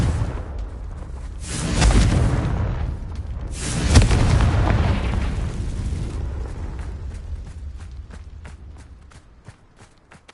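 Confringo fire spell blasts in Hogwarts Legacy, a video game: two heavy booming explosions about two seconds apart over a rumbling, crackling game soundscape, fading into quieter debris rattles.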